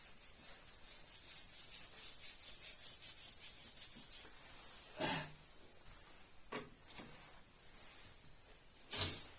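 Rubbing out writing on a classroom board: a faint, steady scrubbing hiss in a quiet room, broken by a few louder, brief swipes near the end, with no talking.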